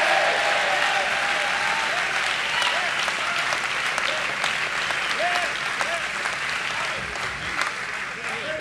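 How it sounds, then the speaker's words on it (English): A church congregation at a family camp meeting claps continuously and calls out, loud sustained clapping with voices and whoops mixed in throughout. "Clap your hands and shout yes to the Lord"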